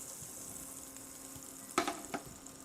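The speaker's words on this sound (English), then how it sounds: "I'm melting the butter on the skillet, medium heat." Butter melting in a skillet over medium heat for crepes, a faint steady sizzle with a couple of brief louder clinks or scrapes near the end, quiet and alone.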